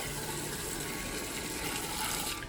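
Water gushes steadily into a bucket for washing a ceramic-coated car, a continuous close hiss and splash with no pauses and no talk.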